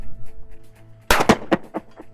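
A shotgun fires at skeet targets on an outdoor range, one sharp loud report followed by a brief echoing tail, standing out against a quiet background.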